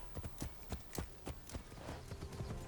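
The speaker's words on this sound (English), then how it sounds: "Just get on your horse and go down the main road." Horse hooves clip-clop steadily on a road while riding in Assassin's Creed Shadows, a regular galloping rhythm of sharp close impacts with no talking.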